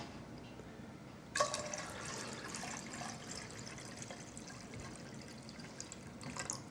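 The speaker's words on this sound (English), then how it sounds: "So we're going to put some more water in there." Water is poured into a pot of sweet potatoes, a soft splashing stream that starts abruptly and runs steadily at low volume, with no one speaking.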